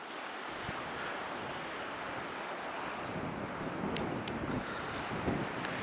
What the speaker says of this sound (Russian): Прям видно напор ветра, как он дует, гонит эти волны